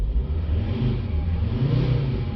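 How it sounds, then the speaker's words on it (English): A vehicle engine idles steadily while a diagnostic scan tool reads glow plug, fuel pressure and alternator data, giving a continuous low rumble that holds loud and close throughout with no talk. "That's with the vehicle running."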